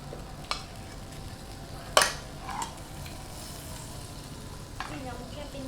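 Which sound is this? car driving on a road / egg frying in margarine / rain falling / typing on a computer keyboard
egg frying in margarine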